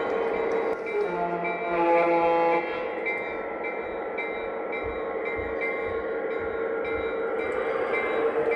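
A Lionel Legacy F3 model train engine rolls out with a steady mechanical hum and tonal horn-like notes, followed by rhythmic clicking of wheels over track, close and moderately loud.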